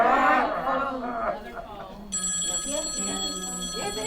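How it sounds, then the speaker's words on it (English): A telephone starts ringing with a bright, steady electronic trill just after a person finishes talking, continuing loud and close to the end. "Just answer the phone."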